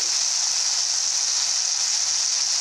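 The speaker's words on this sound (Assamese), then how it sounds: "অকণমান দেৰি ভেন্দিখিনি ভাজি ল'ম।" Okra (bhindi) fries in a pan with a steady, even hiss of hot oil, a close, constant sizzle with no breaks and no talking.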